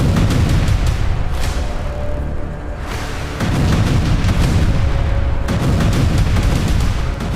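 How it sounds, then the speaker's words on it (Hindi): Heavy, loud booms from an IDF airstrike bombardment in Khan Younis, southern Gaza, come in distinct waves, each a dense rumbling roar that swells, eases briefly, then returns at full force with no voices. "दक्षिण गाजा के खान यूनिस में आईडीएफ की भयंकर बमबारी का यह वीडियो बेहद डरावना है।"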